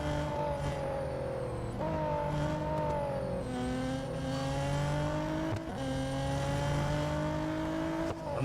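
Race car engine in Real Racing 3, a steady high whine that shifts pitch as the car changes gears, loud and continuous with no talk over it.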